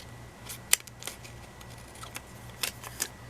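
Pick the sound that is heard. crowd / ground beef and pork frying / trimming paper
trimming paper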